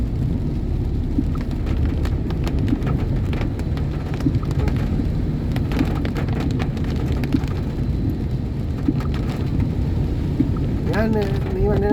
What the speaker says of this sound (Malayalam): ഇത്രയും നല്ല മഴയാണ്.